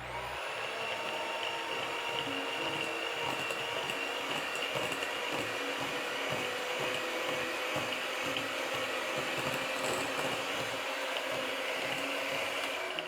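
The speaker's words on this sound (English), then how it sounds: "Then I'm going to use my mixer and mix together the butter and sugar until" An electric mixer creaming butter and sugar for a vanilla cake, a continuous steady motor whine with a faint rhythmic pulsing from the beaters, running close and evenly throughout with no talking.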